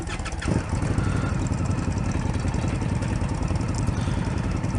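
An Indian Scout Bobber motorcycle cranks and fires up close by, a brief starter whir giving way to a steady, loud, throbbing idle that carries on evenly.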